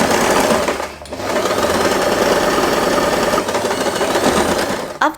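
Sewing machine stitching lines along fabric for a headband cover, running as a loud, steady rapid needle chatter with a short pause near the start and a brief stop at the very end.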